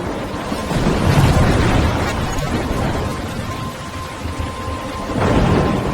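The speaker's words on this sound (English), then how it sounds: "I'm trapped in a storm." A thunderstorm rolls in. Loud, continuous thunder rumbles over steady heavy rain, with a fresh surge near the end and no voices.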